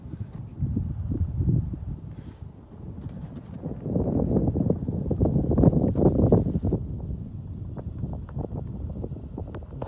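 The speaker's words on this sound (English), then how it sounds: "So it's windy here today." Wind blows across open farmland, buffeting the microphone with a steady, loud, low rumble that swells and eases over the whole stretch, with no voices.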